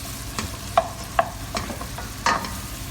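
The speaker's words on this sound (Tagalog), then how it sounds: "Lagyan ko din ng garlic. Halo-haluin lang hanggang mag-brown." Garlic fries in a pan while being stirred, giving a close, steady sizzle broken by several sharp scraping clacks of a utensil against the pan.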